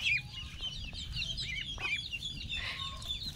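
Muscovy ducklings peeping in high, rapid chirps as they drink water in a quiet rural yard, steady and fairly close with no talk.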